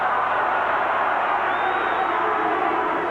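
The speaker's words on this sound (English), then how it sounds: "The crowd roared for something in that tackle" Steady, continuous stadium crowd roar at a 1990 New Zealand vs Great Britain rugby league test match, a dense distant wash of noise holding level throughout.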